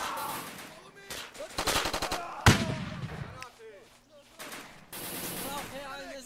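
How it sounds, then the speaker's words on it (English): A .30 caliber machine gun in the shooter game Easy Red fires spaced single shots and short bursts among battlefield noise, with one loud crack near the middle, while voices talk over the action. "Who knew that a 30 caliber machine gun could function as a long-range rifle?"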